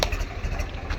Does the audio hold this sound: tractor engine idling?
yes